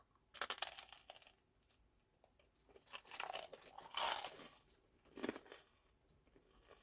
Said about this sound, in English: The crunch is really noisy.